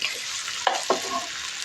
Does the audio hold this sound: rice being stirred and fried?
yes